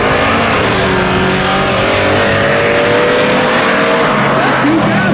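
Engines of a Toyota Tundra and a Chevrolet Blazer truck launching in a spectator drag race at the Freedom Factory, a loud continuous roar with rising engine drone over crowd noise.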